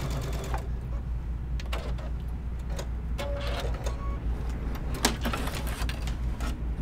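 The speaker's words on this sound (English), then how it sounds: "And then I'm going to sew the other side." Sewing machine stitching leather at a 2.5 stitch length, run slowly, producing a quiet mechanical whir with small clicks and knocks nearby, faint voice-like sounds mixed in.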